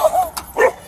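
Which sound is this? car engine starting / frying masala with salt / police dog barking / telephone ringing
police dog barking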